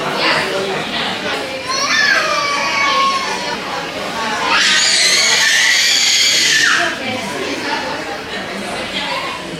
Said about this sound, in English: Now there's a screaming baby in the McDonald's.